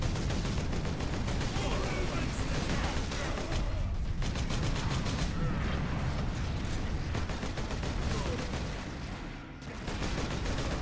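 Rapid bolter gunfire in the Warhammer 40K: Space Marine video game, dense overlapping bursts of heavy automatic shots with mechanical clatter, continuous and loud with a brief dip near the end.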